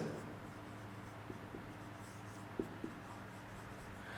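Handwriting on a board or paper during a chemistry lecture, a soft continuous scratching with a few light taps, fairly faint against a steady background hum.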